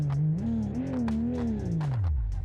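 A modded car engine in BeamNG Drive revs up and down, its droning tone rising and falling before sinking low at the end, loud and continuous with faint ticking over it.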